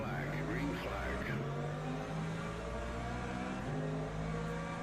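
Race cars in the Le Mans Ultimate sim, LMP2s among them, hold a steady engine drone at the green flag, with layered tones building under continuous speech.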